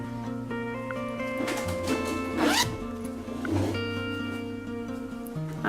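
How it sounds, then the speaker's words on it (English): Zipper being worked on a quilted sunglasses case during sewing, with two quick rasping zip pulls standing out over a steady electronic background drone and tones. "So now you have successfully inserted a zipper."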